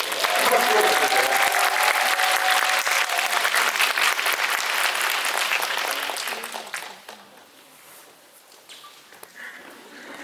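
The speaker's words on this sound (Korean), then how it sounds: "한 박수 부탁드립니다" Loud sustained audience applause at a Korean film screening Q&A welcoming two film directors, with some cheering, fading down after about seven seconds to quieter scattered clapping and room noise.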